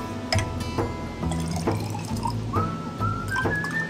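Water is poured from a beaker into a graduated cylinder in a home chemistry set, with trickling, dripping splashes and a rising fill tone as the level climbs, close and fairly quiet.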